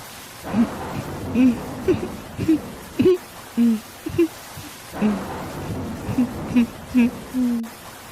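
Steady rain hisses through a cartoon night scene, a soft continuous wash beneath a voice that wails and sobs in repeated rising cries.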